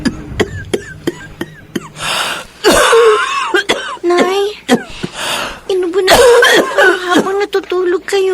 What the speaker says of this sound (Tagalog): dahil sa pag-ubo